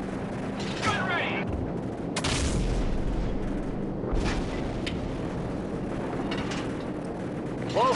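Gunfire and explosions in the video game Call of Duty 4: Modern Warfare, a dense continuous battle din with heavy blasts around two and four seconds, radio voices talking over it.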